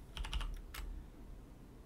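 A few quick, faint computer-keyboard keystrokes in a short cluster, followed by a single key tap in a quiet room.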